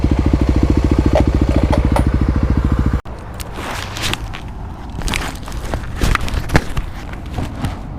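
A 2018 EFI Kawasaki KLX351 motorcycle with a full FMF exhaust idles in a dyno shop with a fast, even, loud thump, then cuts off abruptly, leaving indoor shuffling and clatter.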